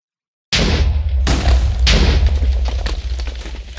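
An explosion blasting during village renovation work, a loud close boom with deep rumbling and several sharp follow-up bursts, no talking.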